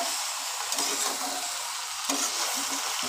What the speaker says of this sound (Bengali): এবার লাউগুলো এর সাথে ভাজবো খানিকক্ষণ।